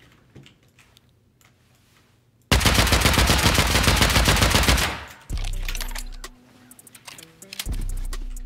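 Explosive ammo in the video game Rust pounds an embrasure in long, dense rapid-fire bursts, loud and close, with a sustained volley broken by shorter strings of shots and no talk over them.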